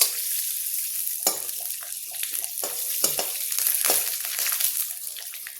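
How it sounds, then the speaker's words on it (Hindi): Peanuts roasting in oil in a kadai give a steady close frying sizzle, broken by several sharp scrapes and clinks of stirring; no voices. "कढ़ाई में मैंने तेल डाल दिया, मैं इसी में बना लेती हूँ, भून लेती हूँ इसको थोड़ा सा"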